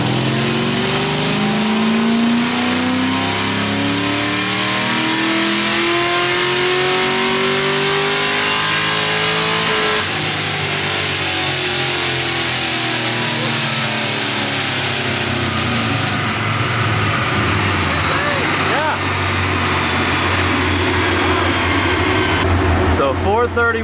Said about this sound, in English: the car sounds absolutely fantastic on here